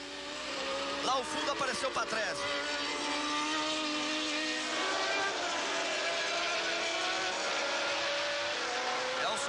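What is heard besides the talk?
Formula 1 race cars accelerating at Brazilian Grand Prix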